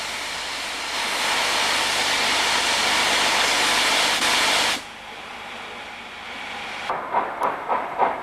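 Steam locomotive 3077 pulls away from Loughborough on the Great Central line in dismal New Year weather. A loud rolling roar fades sharply, then a few distinct rhythmic chuffs follow near the end, with no voices.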